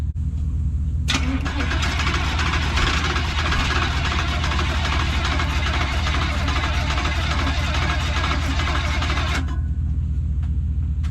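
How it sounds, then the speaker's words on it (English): An old carbureted truck engine cranking after sitting unused, a loud, close, continuous rhythmic starter churn lasting about eight seconds without catching, with a low mechanical rumble before and after. "the fact that it's cranking is a good sign"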